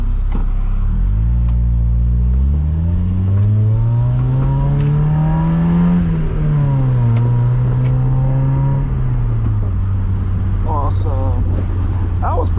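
Mazda Miata sports car on a curving highway, its engine rumbling and revving as it accelerates through gears, steady loud in-cabin drone rising and falling in pitch, with a few brief clicks.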